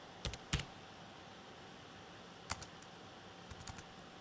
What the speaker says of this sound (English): So let's just type Roosevelt.